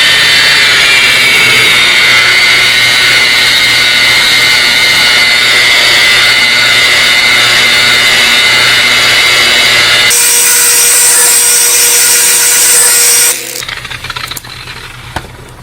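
A machine polisher runs on a car's clear coat to remove scratches and swirl marks, a loud steady whine that shifts pitch partway through and then cuts to quieter handling noises.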